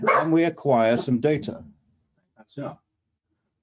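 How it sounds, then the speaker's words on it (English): A house dog gives a brief bark or two in the background just after someone speaks during an online academic symposium session; the barking is short and sits in otherwise near-silent room sound. "Excuse me, that's my dog."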